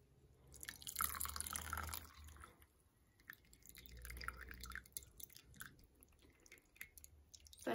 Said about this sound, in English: I'm gonna just let this like seep and drip out of here.